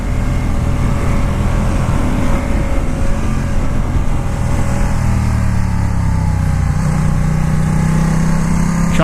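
A Ducati XDiavel S motorcycle engine roaring steadily at close range with heavy wind rush, the throttle easing back toward the end.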